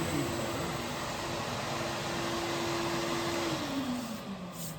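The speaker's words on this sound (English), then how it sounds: "You notice we are just using a shop vac." A shop vac used as dust collection while finishing an aluminum beam hums steadily and loudly, and a tonal whine drops in pitch near the end as the motor winds down. No talking.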